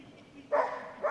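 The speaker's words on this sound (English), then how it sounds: "Barking into the entrance and exit of the tunnel." A dog barks twice during an agility run in the British Open Final at Crufts 2022, sharp moderately loud barks half a second apart over arena background.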